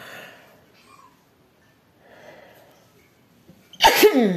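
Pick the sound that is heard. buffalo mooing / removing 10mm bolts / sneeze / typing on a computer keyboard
sneeze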